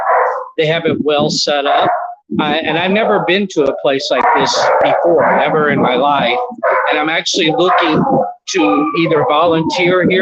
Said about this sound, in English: you can hear the dogs barking